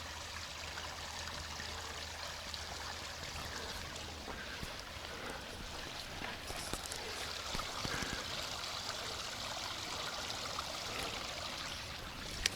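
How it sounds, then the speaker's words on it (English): Creek water flowing beneath a small bridge on a redwoods hike after the first rainfall: a continuous, moderately quiet rushing trickle, with a few faint knocks and a low rumble early on. "Oh yeah, we've got some creek flow today"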